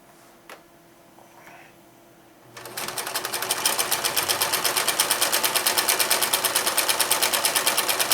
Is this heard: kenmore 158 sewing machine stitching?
yes